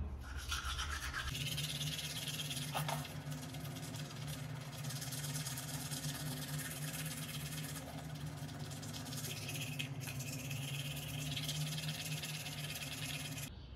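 Teeth are brushed with a toothbrush in a room, a continuous buzzing scrub close to the mic that runs steadily for the whole stretch, with occasional small knocks over a hum.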